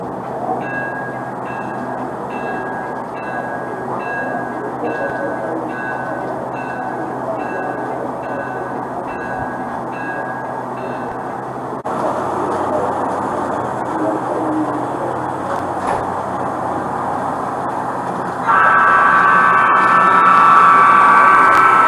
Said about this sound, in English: let's send the train over it.